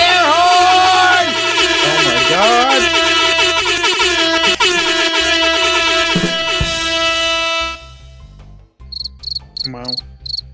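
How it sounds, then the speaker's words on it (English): A synthetic air horn sound effect blares continuously and overlapping as it is clicked repeatedly, a loud dense stack of tones that holds for about eight seconds, then cuts out, followed by a few short bursts with brief voice sounds. "what if we all click the air horn over and over again at the same time?"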